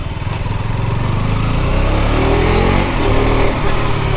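A 2021 KTM RC 200 BS6 motorcycle engine revs freely on a test ride, its buzzing single-cylinder note rising and falling through the mid range, loud and close, with no talking over it.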